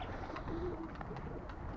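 A pigeon coos softly once or twice, a short low call at a moderate distance over faint background noise.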